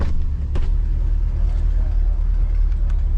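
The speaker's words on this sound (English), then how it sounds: "This car is a 2023 Corvette C8 Stingray. It has Catless exhaust, so it's a little bit loud" A 2023 Corvette C8 Stingray with catless exhaust rumbles loudly and steadily while driving through city streets in Nashville, a deep continuous engine drone with a few brief sharper bursts.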